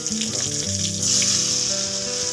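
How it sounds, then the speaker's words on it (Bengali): Pointed gourd (potol) pieces frying in hot oil for Bengali tel potol, giving a steady, close sizzling hiss that runs throughout beneath tonal background music. "আমি একে একে পটলগুলো সব দিয়ে দেবো, দিয়ে ভালো করে ভেজে নেব।"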